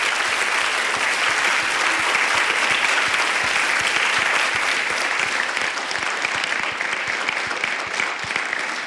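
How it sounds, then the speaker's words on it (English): A large audience at a women's leadership event applauds steadily and loudly for several seconds, a dense wash of clapping that tapers slightly toward the end. "could we have a big round of applause for all of our sponsors?"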